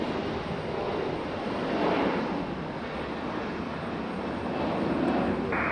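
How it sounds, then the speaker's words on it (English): A FedEx Boeing 767 departs Raleigh-Durham International, producing a steady broadband jet roar that swells slightly near the middle and again toward the end, heard alone without voices. "Pick up our FedEx 767 departure."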